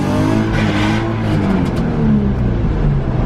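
A race car engine drones loudly and continuously close by during a pull without nitrous, a steady revving roar across the whole short stretch.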